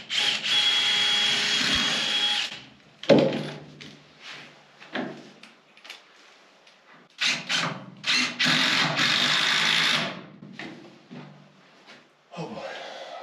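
A power drill drives screws into a king stud in barn framing, with bursts of loud whirring separated by pauses, close by, and a few knocks and handling noises between runs.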